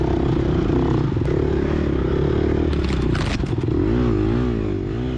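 Dirt bike engine revving hard during a sandy cross-country race in the woods, a loud continuous motor drone with rising and falling pitch as the throttle is twisted, joined by scraping and clattering near the end.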